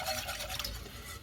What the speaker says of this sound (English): I'm using a whisk here because I just don't want lumps in my flour there